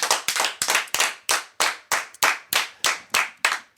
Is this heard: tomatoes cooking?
no